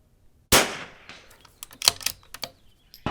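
A rifle shoots at steel targets on an outdoor range: one sharp, loud report, then a cluster of quicker cracks and clanks ringing out, with another sharp shot at the end and no voices.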